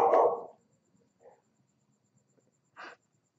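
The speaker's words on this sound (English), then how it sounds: "my dog is barking at the wind" A dog barks outdoors in the wind, one louder bark followed by two quieter, shorter ones spaced apart against near silence.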